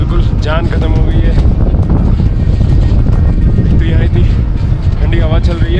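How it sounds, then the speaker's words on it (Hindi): Cold wind blowing steadily on the high mountain trek to Shrikhand Mahadev, a loud continuous rush buffeting the microphone, with a voice talking over it. "ठंडी हवा चल रही है"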